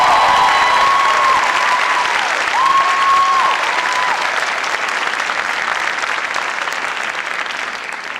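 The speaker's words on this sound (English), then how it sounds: "I ask our graduates to give their family and friends a warm round of applause" Sustained applause from a large commencement ceremony audience fills the whole stretch, steady and dense, with faint crowd murmur mixed in and fading slightly toward the end.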